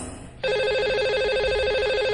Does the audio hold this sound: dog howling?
no